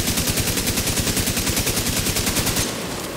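Rapid automatic gunfire from a video game, a steady, evenly spaced stream of loud shots rattling nonstop for nearly three seconds before cutting out.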